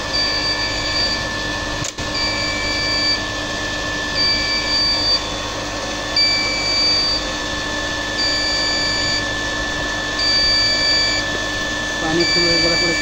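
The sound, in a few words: electric steam boiler low-water alarm beeping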